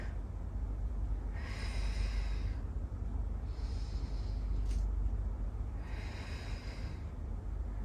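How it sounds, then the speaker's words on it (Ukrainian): Three slow exhalations through the mouth during a lying pelvic-floor exercise, soft breathy whooshes a couple of seconds apart over a low steady background hum. "Кожен раз намагаємось видихати через рот."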